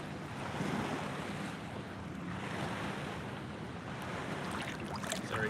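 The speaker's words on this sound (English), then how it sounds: "the waves are breaking on me" Waves break in shallow water on Charleston Harbor in South Carolina, making a steady broadband wash of surf mixed with wind buffeting the microphone. The sound is continuous and close, and no one speaks.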